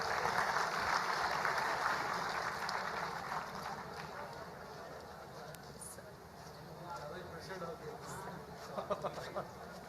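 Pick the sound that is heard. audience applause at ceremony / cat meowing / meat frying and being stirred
audience applause at ceremony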